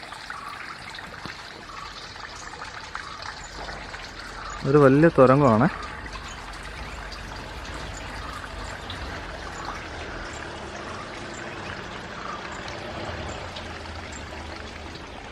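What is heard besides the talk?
water falling through a tunnel at a dairy farm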